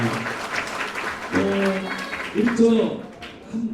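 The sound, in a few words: audience applause at political event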